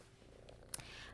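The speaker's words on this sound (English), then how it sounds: "you can hear him purring probably too. He's a very loud purr." A cat purrs loudly close by indoors, a soft, steady low rumble that stays quiet overall, broken by one brief sharp click near the middle.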